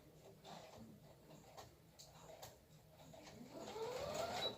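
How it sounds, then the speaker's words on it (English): A sewing machine stitches elastic onto a skirt, a continuous fairly quiet motor hum and needle chatter that swells slightly louder toward the end. "making sure that this elastic is sewn all the way down"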